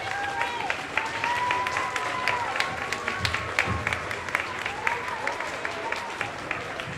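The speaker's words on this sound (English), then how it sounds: "Can I have a round of applause, please, for the singers?" An audience at a school shoe-string play claps for the child singers, sustained applause with sharp individual claps, plus scattered cheers and children's voices mixed in.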